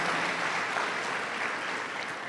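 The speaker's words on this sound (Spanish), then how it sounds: "de una vez démosles un aplauso desde aquí" A congregation applauds steadily, a soft, even wash of many hands clapping at a distance, with no break and no voices for a couple of seconds.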